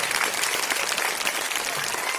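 An audience at an institute event in Pathankot applauds in honour of martyrs and soldiers, a dense, loud, continuous burst of many hands clapping.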